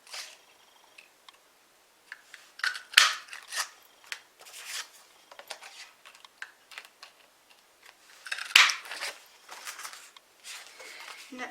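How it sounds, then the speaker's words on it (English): Scissors cutting small one-inch circles from glimmer paper for a papercraft project, with soft intermittent snips and crisp paper rustles close by, separated by brief quiet gaps. "So I'm going to cut out 6 1-inch circles, 1 in each colour."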